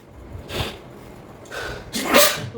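A person sneezes loudly indoors, a small breathy burst followed by a bigger double sneeze near the microphone, with quiet background between them.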